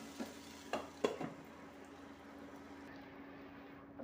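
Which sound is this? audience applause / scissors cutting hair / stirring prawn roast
stirring prawn roast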